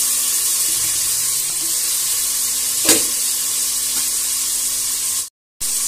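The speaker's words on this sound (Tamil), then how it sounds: "இப்போ பாருங்கள் நல்லா சிக்கன் நல்லா ஓரளவு இஞ்சி பூண்டு பேஸ்ட் நல்லா வதங்கிட்டோம்" Chicken sizzles steadily in hot oil with ginger garlic paste and mustard seeds, a continuous close frying hiss with one brief stir or scrape midway before a short cut to silence near the end.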